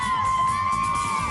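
A group of children cheers and shouts loudly for Tegan, sustained high-pitched yelling and whooping close by.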